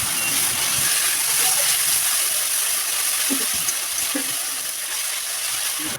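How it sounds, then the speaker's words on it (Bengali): Spice paste sizzling and frying in a hot pan with onions, a steady dense hiss throughout with a few soft stirring knocks. "লালচে করে ভেজে দিয়ে দেব বেটে রাখা মশলাটা"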